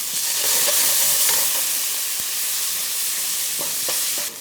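Noodles and broth are stirred in a hot wok, giving a loud steady sizzle and steam hiss with scattered scrapes and clinks of the utensil against the pan.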